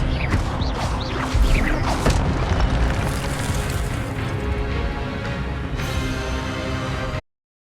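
Loud magical blasts and crashing impacts from a spell duel in the Hogwarts Legacy video game, a dense continuous roar with bursts and booms throughout.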